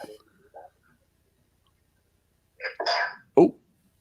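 A single sharp sneeze from someone at a Tribal Council gathering, a sudden close burst with a short breathy lead-in and a snap at the end, after a few faint murmurs and a long quiet stretch.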